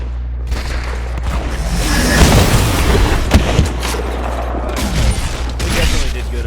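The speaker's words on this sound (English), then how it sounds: "Every time I cock this shotgun" Shotgun fire in the video game Outrider comes as a dense stretch of heavy booming blasts and mechanical clanks over a continuous low rumble, loud and close.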